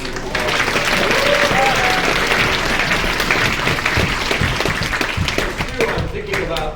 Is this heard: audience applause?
yes